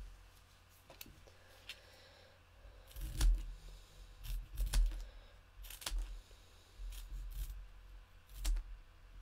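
Several short, crisp snips of scissors cutting paper, coming in small bursts with pauses between them, close by and fairly quiet.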